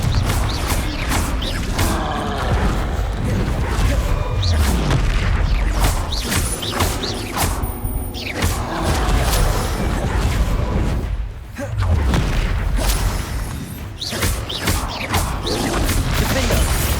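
Confringo blast spells in Hogwarts Legacy combat, with loud repeated booming explosions and crashing impacts over dense game effects and music, continuous and close, with a brief lull partway through.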